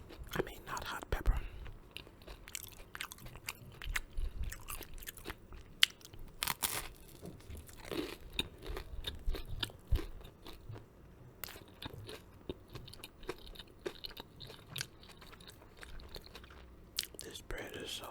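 Close crunchy bites and wet chewing of an eggplant sandwich on crusty bread, recorded intimately with soft whispered talk between mouthfuls and occasional crackles.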